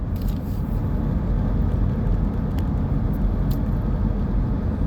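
A Franz bread delivery truck on a road along the Oregon coast in the early morning, heard as a loud, steady low road rumble with engine drone that holds throughout, with no speech.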